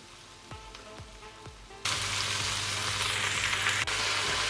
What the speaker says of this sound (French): Là, je rajoute mes oignons que j'ai coupés préalablement en lamelles.